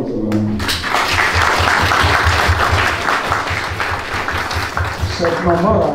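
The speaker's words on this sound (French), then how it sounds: "applaudissons pour notre maman" Church congregation applauding in honour of the mother during the welcome of a pastor in France: a steady wash of clapping over a thumping rhythmic drum beat, with voices heard at the start and end.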